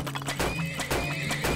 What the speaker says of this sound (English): What the heck are these horses doing?